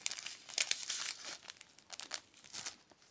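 Crinkly plastic packaging on shopping haul items from a Noz store being pulled open, giving sharp, close crackles and rustles in uneven bursts with no talking.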